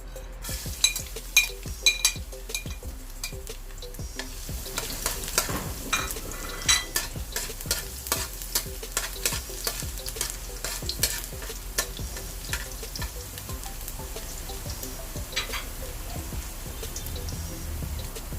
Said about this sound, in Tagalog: Guys, lalagay ko na po yung bawang natin.